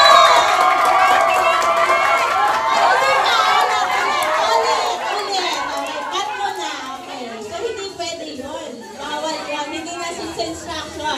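Wedding guests break into loud cheering, shouting and applause, with excited voices and children's cries that are strongest at the start and slowly fade over several seconds.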